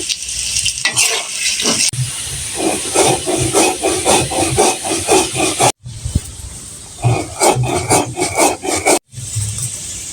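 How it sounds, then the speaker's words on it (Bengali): Black cumin seeds being ground by hand on a shil-pata grinding stone: a steady, gritty scraping rub repeating back and forth in close strokes, with two brief pauses. "যেহেতু আমার ব্লেন্ডার মেশিন নেই তাও আমি শিলপাটায় বেটে নিচ্ছি"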